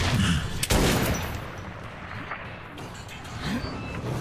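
Gunfire bursts at close range in Metro 2033, with a sharp shot near the start, then rumbling, echoing fire over a noisy, heavy background.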